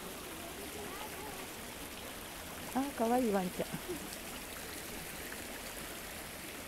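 Steady, low hiss of a narrowing river stream flowing nearby, faint and continuous, with a brief spoken voice cutting in over the water midway.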